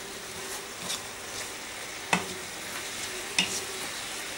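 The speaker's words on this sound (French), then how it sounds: "On remue." Chicken with chili flakes sizzles gently in a pan while a utensil stirs it, two distinct scraping knocks standing out over a quiet, steady fry, with no voices.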